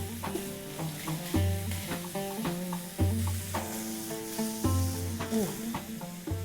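Fresh tomato chunks sautéing in a pan with cumin, a steady close sizzle and frying crackle under stirring clatter, with harmonic musical tones running throughout the whole stretch.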